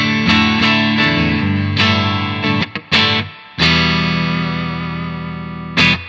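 Clean electric guitar chords through a UAFX Dream amp modeler set like a Fender '65 Deluxe Reverb ring out with lush reverb and a slight mid scoop, strummed in bursts with short pauses, each chord sustaining and decaying warmly.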